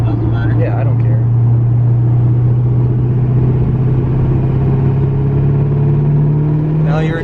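A Duramax L5P diesel pickup truck engine pulling under boost, a loud, steady low drone with a slowly rising pitch heard from inside the cab, with voices talking over it.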